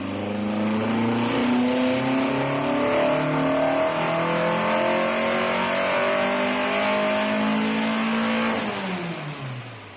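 A classic Datsun 1600 rally car engine, about 160 wheel horsepower, revs hard and steadily, pitch climbing and holding loud and close for several seconds before easing off at the end.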